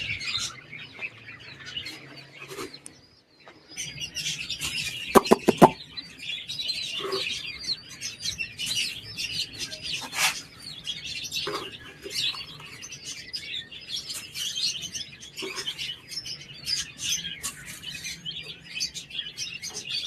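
Chicks chirp and tweet continuously while pecking grain, in quick, overlapping peeps, with occasional sharper calls and light rustling close by.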